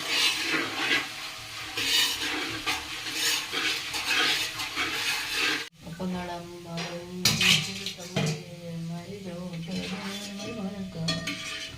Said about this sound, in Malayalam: ബാക്കി വെജിറ്റബിൾ വറുത്തുകൊണ്ടിരിക്കുന്നു.